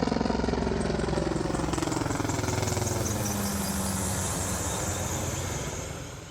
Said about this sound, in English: The low rumble in the distance soon turned into a loud roar throughout the campground as a pair of military helicopters passed by overhead